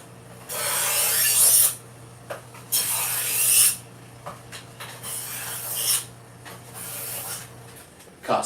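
A knife is sharpened before skinning and deboning a fish: several long, close, rasping strokes, each about a second, separated by short pauses, over a low steady hum.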